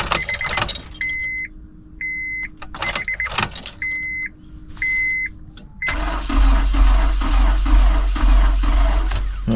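A 2006 Honda S2000 AP2 being rebuilt after a wreck, with the key turned to crank the engine: chimes and electric clicks and whirs give way to a loud, steady cranking drone, up close and without talk.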